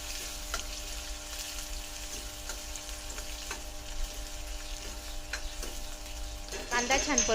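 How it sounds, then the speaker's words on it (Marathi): Onion sautéing in a pan at home, a steady frying sizzle with periodic soft stirring scrapes throughout, close and moderately loud, growing a bit busier at the end. "कांदा छान परतून झालेला आहे"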